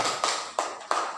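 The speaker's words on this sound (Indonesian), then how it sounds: "Tepuk tangan buat kelompok" Three sharp, evenly spaced claps or taps ring out in a classroom as a student group is applauded, each a brief crisp hit close by with no talk over them.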